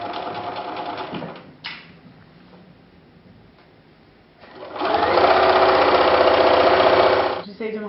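A domestic sewing machine stitches an invisible zip onto a skirt, its motor buzzing in two runs, a short one and then a longer steady one, close and loud, with someone speaking French between them.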